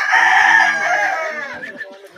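A fowl clucks and calls up close as it approaches to peck, a loud drawn-out cry fading into softer clucks, with faint human voices in the background.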